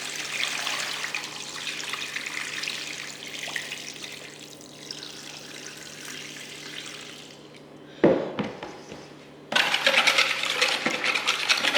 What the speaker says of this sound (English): I'll pour it now over my turkey wings